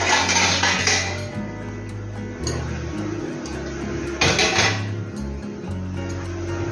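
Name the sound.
covering a pot of chicken with a lid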